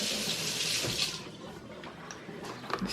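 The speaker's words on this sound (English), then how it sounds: "rinse this off real quick" Tap water runs steadily into a sink while something is rinsed off during cold process soap making, a close continuous splashing hiss.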